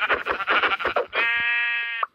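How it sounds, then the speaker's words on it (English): Sheep bleating in Minecraft, close and loud, as a quick run of warbling pulses followed by one longer, steady bleat that ends abruptly. "Hello, sheep. Bye-bye,"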